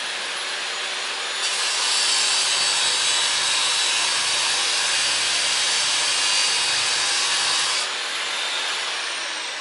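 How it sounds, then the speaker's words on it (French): A thermal saw cuts through door hinges and then the frame at night, a loud, steady grinding rasp that runs for several seconds without pause. "La scie thermique est posée, les gonds sont attaqués, puis le cadre."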